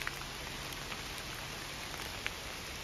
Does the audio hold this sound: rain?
yes